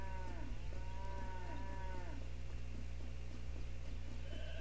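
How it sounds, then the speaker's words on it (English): Cows moo repeatedly over a steady synthetic background hum in the video game Trader Life Simulator, several drawn-out lowing calls in the first half, then quieter ambient tones. "there's our cows"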